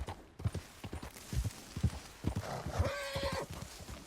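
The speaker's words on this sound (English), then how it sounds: "I had to jump my horse over some rocks." Steady clip-clop of horse hooves in Red Dead Redemption 2, then the horse whinnies loudly near the end; fairly close, no talking.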